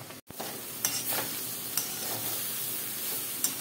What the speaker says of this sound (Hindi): यहाँ मसाला अभी ढक देते हैं, ढक के फ्राई होने देते हैं